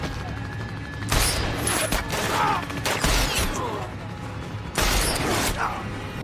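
Bursts of heavy gunfire and loud impacts erupt in several waves in a film scene, with a crashing, debris-filled blast as a van is destroyed near the end, over a steady rumbling background.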